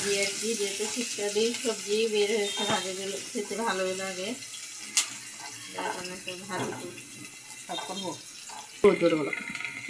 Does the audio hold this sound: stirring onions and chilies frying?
yes